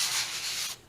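Brisk rubbing strokes scrape dust off a notebook cover, a soft, close, hissing friction that fades out near the end. No one speaks.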